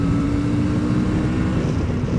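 Suzuki V-Strom 650 motorcycle engine accelerating smoothly, a steady close droning engine note with constant wind rush throughout, no talk.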